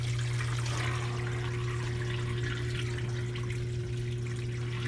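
A portable washing machine draining water, a loud continuous rushing flow with a steady low pump hum throughout, uninterrupted and close.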